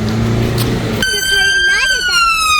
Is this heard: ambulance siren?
yes